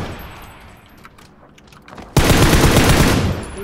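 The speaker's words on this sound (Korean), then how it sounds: "총소리 들리는 것부터 가자" Gunfire in the battle royale video game PUBG: after a quiet stretch with faint distant shots, a loud burst of rapid automatic fire erupts and continues to the end.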